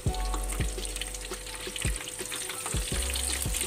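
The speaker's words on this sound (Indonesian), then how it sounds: "tahu dan tempe bacem kita goreng" Marinated tofu and tempeh bacem, seasoned with sugar and soy sauce, frying in a pan of shallow oil over medium heat, giving a steady close sizzle with recurring pops and crackles and no talking.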